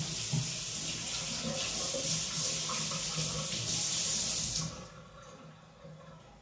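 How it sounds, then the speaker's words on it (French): Tap water runs steadily while a kitchen worktop is rinsed, splashing close for several seconds before the flow cuts off, leaving quiet room tone. "Je rince mon plan de travail."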